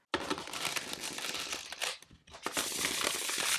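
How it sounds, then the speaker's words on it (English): A large mass-market tarot deck being shuffled by hand, with close, crisp riffling and papery crinkling of cards in two quick bursts separated by a brief pause. "It is a little bit big, but it shuffles okay."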